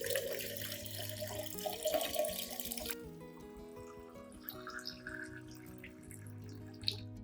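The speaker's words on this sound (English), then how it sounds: "Add 1 liter of clean water to dilute the rice solution." Clean water runs into a rice solution for orchids as a steady, close pour for about three seconds, then the stream cuts off and only faint drips and quiet room noise remain.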